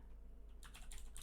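Keys clatter on a computer keyboard during a game-development tutorial, a faint run of quick, irregular clicks in the second half over a low steady hum, with no one talking.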